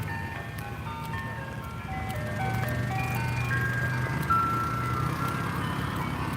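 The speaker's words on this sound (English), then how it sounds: "2 ice cream trucks playing music at once side by side doesn't sound so good" Two ice cream trucks parked side by side in Washington DC, each playing its jingle at once, clashing tinkly melodies over a low engine rumble, steady and moderately near, with no talk.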